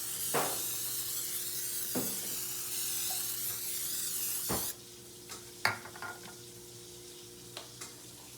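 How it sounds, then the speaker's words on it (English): A hissing spray runs for several seconds, then stops, followed by faint clatter and soft sizzling in a quiet kitchen. "we'll go in with our olive oil spray."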